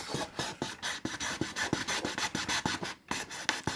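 A wooden fruit crate is cut by hand along marked lines, giving a steady rasping stroke rhythm of about three to four strokes per second, close and continuous with one brief break.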